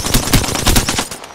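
Loud rapid gunfire in Apex Legends, a burst of about half a dozen close shots in quick succession that tails off at the end, with no talk over it.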